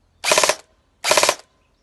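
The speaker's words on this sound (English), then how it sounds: "It's got its single fire, nice and crisp. Oh, it does have rapid fire." Two short bursts of rapid automatic fire from an airsoft gun, each roughly a quarter second of fast clattering shots, loud and close, with a brief pause between them and no talk.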